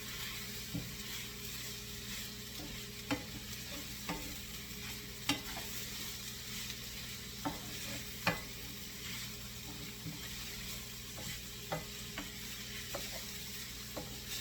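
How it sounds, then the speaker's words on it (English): Rice being stirred in a paella pan for a monkfish, Swiss chard and sesame seed paella, a steady low sizzle with periodic scraping spoon taps on the metal pan, quiet and close. "Add your rice. Stir it around."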